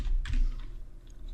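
Brief burst of clicking keystrokes on a computer keyboard while code is entered, close and fairly quiet, with a low steady room hum underneath.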